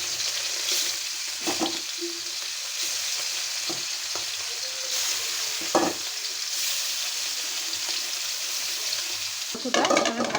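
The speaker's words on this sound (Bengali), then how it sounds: "আমি এক এক করে ভাজে নেব।" Hilsa fish pieces rubbed with salt and turmeric frying in oil, a continuous sizzle broken by several scraping stirs and clinks of a utensil against the pan.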